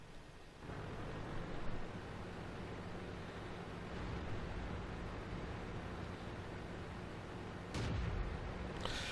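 Tank cannon fire from an allied tank in the World of Tanks video game, heard as deep booming blasts over a steady rumbling battle ambience, with one louder burst near the end.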